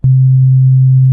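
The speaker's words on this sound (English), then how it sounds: "I have the sine wave. I play it," A synthesizer sine wave tone plays as one steady, loud, low pure note, held alone without any voice for about a second.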